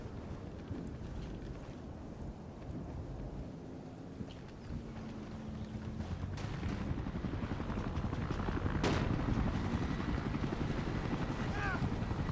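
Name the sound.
helicopter flying in video game Battlefield Play4Free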